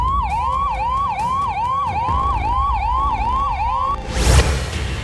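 An ambulance siren passing near the Prime Minister's convoy, a loud, close wail repeating in rapid rising sweeps with harmonics, then cut off by a burst of broadband road noise as vehicles rush past.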